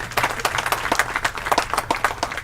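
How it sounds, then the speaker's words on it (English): A crowd at a baseball state championship game claps for the umpires, brisk distinct hand claps in an uneven rhythm, moderately close and without talk. "I'd like everybody to give a round of applause to our umpires"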